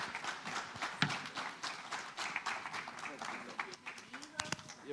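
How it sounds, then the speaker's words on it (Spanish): Church congregation applauding to welcome a couple, a steady wash of many hands clapping with scattered louder claps, mid-distance, with voices murmuring underneath. "recibámoslos con un aplauso para animarlos a seguir adelante."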